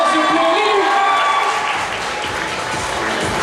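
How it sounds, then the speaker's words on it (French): Enthusiastic applause from an audience, loud and sustained, easing slightly toward the end. "On l'applaudit bien fort, s'il vous plaît."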